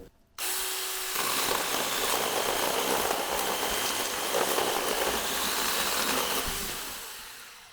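A small cordless mini saw whines steadily as it cuts through a thick branch for several seconds, loud and close, before winding down.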